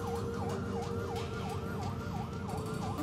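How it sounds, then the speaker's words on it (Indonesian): An ambulance siren wails steadily and loudly in a fast, repeating rise-and-fall pattern over road traffic noise. "Karena dengar sirine ambulan juga"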